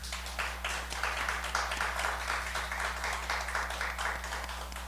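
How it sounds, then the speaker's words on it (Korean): A church congregation at a Friday late-night prayer meeting claps to welcome back their accompanist, a steady, moderately loud patter of hands lasting throughout, with a low steady hum beneath. "자, 우리 박수로 환영합니다."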